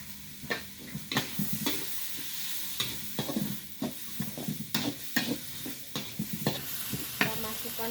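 Rice vermicelli (bihun) noodles stir-fried with a splash of soy sauce in a pan, with repeated spatula scrapes and clatters over a steady close sizzle, no talking.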